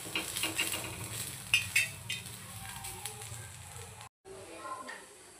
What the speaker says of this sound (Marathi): कांदा बघा आपल्याला छान असा काळसर असा तव्यावर भाजून घ्यायचा आहे